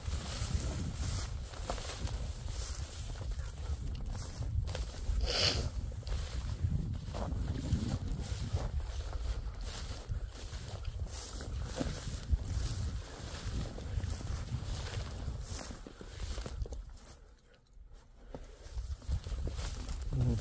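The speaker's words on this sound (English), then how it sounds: "The electric motor." Electric motor running inside a grain elevator in Parry, Saskatchewan, a steady low droning hum with airy rushing noise throughout, briefly dipping quieter near the end.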